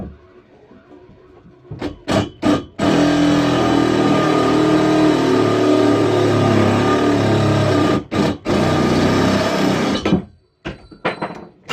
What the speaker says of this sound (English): now that I got a bigger drill bit, I'm going to try drilling this thing out again